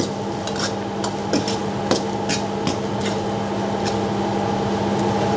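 Thai chilli paste (nam phrik pao) stirred and fried in a pan, a steady sizzling hiss broken by scattered clicks and scrapes of the utensil against the pan, close and continuous.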